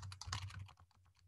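Quick, uneven keystrokes on a computer keyboard during a Ctrl+F search, close and fairly soft, with a low steady hum beneath and no talking.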